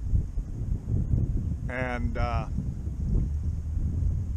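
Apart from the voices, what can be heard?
wind blowing into the microphone outdoors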